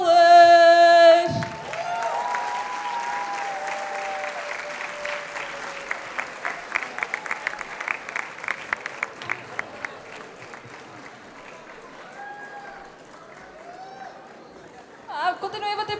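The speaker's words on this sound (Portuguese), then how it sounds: "Uma salva de palmas para" Warm applause from a convention crowd greeting group cosplay contestants at an anime event, steady dense clapping that swells and continues with scattered voices over it, ending with a brief burst.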